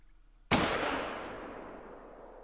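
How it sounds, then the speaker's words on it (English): A single hunting rifle shot fired at a doe in the game theHunter: Call of the Wild, a sharp loud crack after a quiet moment, then a long fading echo. "we're going to take a shot on her as well"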